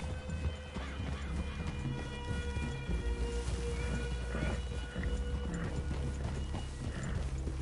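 Horses clip-clop in Red Dead Redemption 2 gameplay, hooves thudding in a steady, uneven rhythm on the ground. Their footfalls stay fairly close and moderately loud, with a faint background of game ambience.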